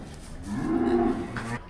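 A cow moos in a calving pen on a farm, one long, low, fairly loud bellow that swells in the middle and tails off, with faint background noise.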